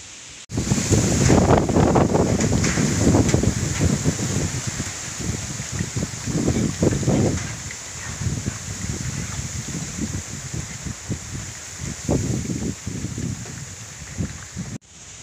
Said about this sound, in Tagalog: malakas yung hangin, malakas yung ulan dito sa amin